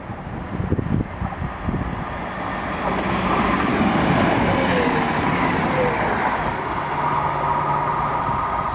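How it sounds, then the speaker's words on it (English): A Class 170 Turbostar diesel unit runs through South Gyle station, its engine and wheel rumble swelling from a distance into a loud, steady close pass with clickety rail noise, without any voices over it. "Coming through now is another Class 170 Turbo Star."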